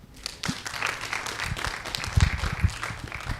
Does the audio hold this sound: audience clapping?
yes